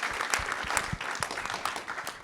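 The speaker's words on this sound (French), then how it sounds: "Est-ce qu'on peut l'applaudir très très fort?" Audience applause at a French community gathering, a dense steady wash of clapping from a crowd that holds for the whole stretch with scattered sharper claps standing out.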